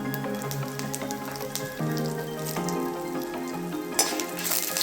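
Dried red chillies, coriander and curry leaves roasting in a pan for a Kerala fish curry, giving a steady, close crackling sizzle with occasional louder pops.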